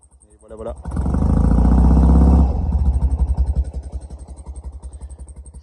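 A BMW R80G/S flat-twin motorcycle engine starts and revs up loud and close, then settles into a steady, throbbing idle with a lumpy, pulsing beat.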